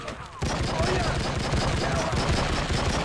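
Rapid bursts of video game gunfire in True Crime: Streets of LA, dense overlapping shots rattling continuously at close range after a brief quieter moment at the start.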